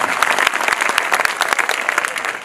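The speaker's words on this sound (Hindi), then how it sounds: "मैं चाहता हूं एक बार ताली बजा करके मुझे माहौल दें" An audience at a Hindi poetry recital applauds: dense, continuous clapping from many hands, loud and steady throughout with no talking over it.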